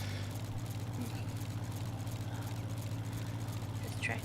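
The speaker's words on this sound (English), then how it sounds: "This tractor always sounds like it's dying every time it lines out." A tractor from a 1950s-era farm mod in a farming video game idles roughly and sounds strained. Its low, steady engine hum drones continuously and fairly faintly throughout.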